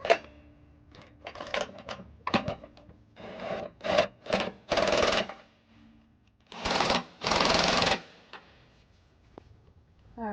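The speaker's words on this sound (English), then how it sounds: "we're going to use a cordless impact, 5" and 11/16 to tighten up the nuts" A cordless impact wrench with a 11/16 socket tightens trailer hitch nuts on a 2015 Subaru Forester, firing in several short rattling bursts of hammering separated by pauses, close and loud.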